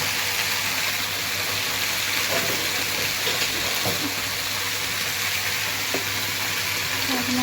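Steady, even sizzling of a kidney bean (rajma) chutney with tomato and onion paste frying in hot oil, close and continuous throughout, with occasional faint clinks of stirring and no talking.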